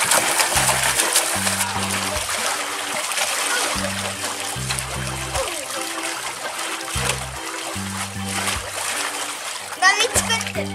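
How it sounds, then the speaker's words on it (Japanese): Children splash and make waves in a backyard home pool in Western Australia, the water sloshing and slapping in bursts across the clip while kids' voices chatter and call out over it. "波作ってる。"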